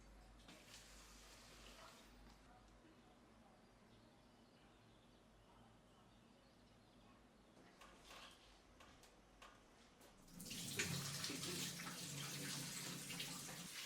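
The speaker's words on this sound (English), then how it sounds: "It has to be washed, rinsed and soaked again many times until the water no longer changes color." Food is washed and rinsed in water in a home kitchen: faint handling and clinking give way to a louder rush of running, splashing water in the last few seconds, with no speech.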